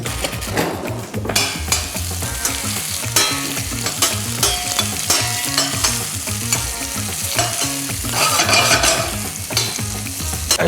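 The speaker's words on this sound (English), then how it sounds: "Next, some onions. We're going to be sauteing this a little bit." Onions sauté and sizzle in a pan for a prawn and mango curry, with steady frying crackle, frequent stirring and utensil scrapes against the pan, close and fairly loud, and no talking.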